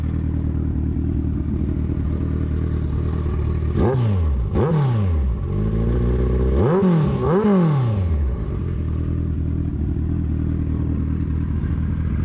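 A 2014 Kawasaki Ninja 1000SX with 76k km on it idles steadily, then its engine is blipped in two sharp pairs of revs that rise and fall, settling back to a loud, close idle.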